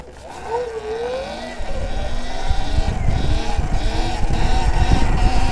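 A 72v Sur Ron electric motorbike ridden in Los Angeles while practising wheelies, giving a steady, loud motor whine and wind rush that builds as it speeds up, without speech.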